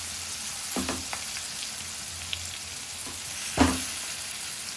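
Okra frying in hot oil in a pan for a stuffed okra dish, a steady close hiss and sizzle with two brief knocks of a stirring spoon.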